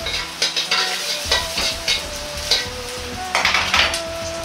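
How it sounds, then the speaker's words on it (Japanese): Ginger and other aromatics fry in oil in a pan, with a close sizzle and repeated stirring scrapes and utensil clinks in short, uneven strokes, and no talk. "生姜などの薬味は冷たい油から炒める"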